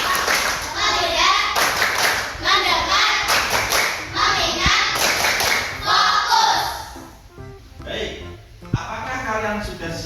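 Pupils in a classroom clap through a counted ice-breaking clap game, with short bursts of group clapping in rhythmic clusters, mixed with children's voices and a leader's prompts, ending with a few scattered claps.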